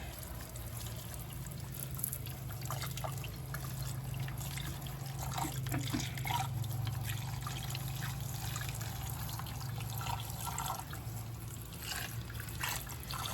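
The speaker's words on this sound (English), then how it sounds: "we're gonna wash our tomatoes. Seems like we always start here. This is warm water." Warm water runs steadily from a tap while tomatoes are washed for homemade pizza sauce, a constant trickling flow close by with small splashes and no voices.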